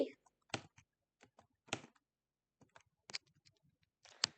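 Keystrokes on a computer keyboard entering paste, space and Ctrl+Enter shortcuts: sparse, quiet clicks in small clusters with pauses between, close and clean with no talking.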